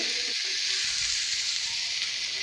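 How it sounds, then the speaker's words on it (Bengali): Potatoes and flat beans fry in hot oil, giving a steady, close sizzle with a bright, even hiss that holds throughout. "তো এখন আলু আর সিমটা একটু কত মানে একটুখানি ভেজে নিবে তেলে"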